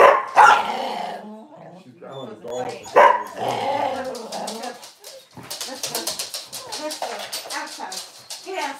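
A dog growls and barks over several seconds amid loud, overlapping conversation close by.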